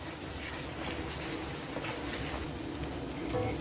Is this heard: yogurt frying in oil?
yes